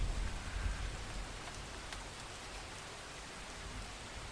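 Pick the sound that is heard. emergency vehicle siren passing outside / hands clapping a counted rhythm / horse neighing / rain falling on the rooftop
rain falling on the rooftop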